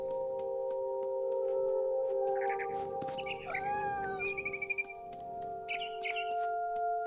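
A mother bird in the game What Remains of Edith Finch gives a few short, bright chirp bursts at moderate distance over a steady, humming ambient drone.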